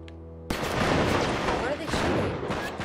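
Gunfire in Uncharted 3: Drake's Deception breaks out suddenly after a quiet tone, then continues as loud, dense shooting with booming impacts.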